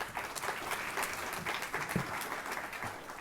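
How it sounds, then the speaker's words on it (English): An audience at a scholarship fundraiser breakfast applauds, a dense, steady wash of many hands clapping throughout, fairly close and continuous. "So one last round of applause for all of you."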